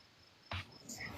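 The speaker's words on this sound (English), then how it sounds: "What's that, crickets? Crickets." Crickets chirping faintly at night in a quiet setting, a thin high trill under a brief louder burst of noise.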